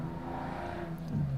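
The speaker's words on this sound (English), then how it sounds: "Crikey, the traffic's loud today." Street traffic heard outside an electronics repair workshop, a low, muffled engine rumble that swells as a vehicle passes toward the end, fairly faint and distant.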